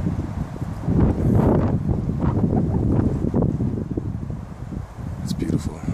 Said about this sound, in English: You can hear the wind going through the trees